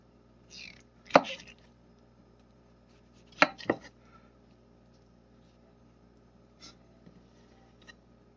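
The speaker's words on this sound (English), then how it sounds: "Then I like to slice them lengthways." Knife slicing fresh wild morel mushrooms lengthways on a cutting board, a few sharp separate chops with long pauses between them, near and fairly quiet.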